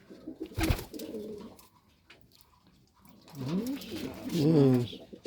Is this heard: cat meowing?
no